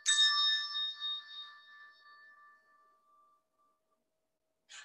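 A single bell tone from a children's music-and-movement song rings out clearly, then decays slowly over a few seconds, with a faint second strike at the end.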